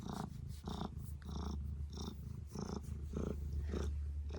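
A house cat purrs close up in a home, a soft rhythmic rumble pulsing with each breath in and out, steady and alone with no talking.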